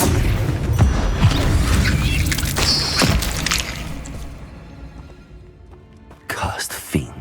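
The Bombarda spell goes off in Hogwarts Legacy during a dueling trial, with loud booming impacts and whooshes amid dense combat noise that dies down before a final burst of hits.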